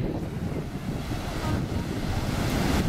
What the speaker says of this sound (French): Ça, c'est une vague, voilà.